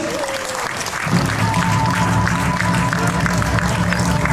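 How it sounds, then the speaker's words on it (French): An audience at a troubadour tournament in Gruyères applauds two performing groups, steady clapping that swells after the first second and continues evenly, with a low hum beneath. "On peut les applaudir, vous pouvez venir."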